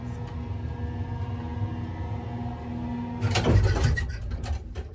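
Steady low hum of a tiny antique single-speed traction elevator with a gated car, running smoothly before a louder clank and rattle of the cab or gate partway through.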